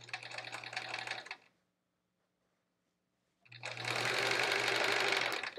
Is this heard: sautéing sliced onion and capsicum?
no